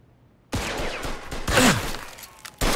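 Bursts of gunfire in a Mafia II shootout, loud sharp volleys starting abruptly, with a heavier clattering barrage in the middle and another burst at the end.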